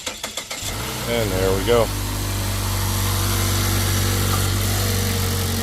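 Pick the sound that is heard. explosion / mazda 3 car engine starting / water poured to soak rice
mazda 3 car engine starting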